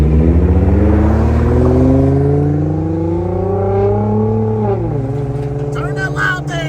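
Loud Nissan GT-R engine revving at a car meet, its pitch climbing steadily for several seconds before dropping sharply, heard close and sustained over steady background noise.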